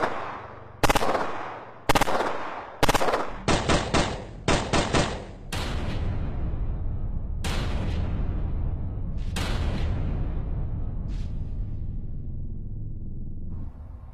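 Beretta 93R machine pistol fired in several short full-auto bursts, each a sharp clattering cluster of shots followed by ringing echo, loud and close with no talking.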